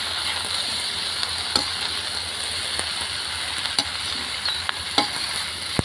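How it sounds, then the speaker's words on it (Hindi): Carrots, beans, peas and potatoes frying in oil with cauliflower in a large pan, a steady loud sizzle with occasional stirring clicks and scrapes, no talking. "ताकि गाजर, बीन्स और मटर, आलू सब बढ़िया तरीके से एकदम फ्राई हो जाए तेल में"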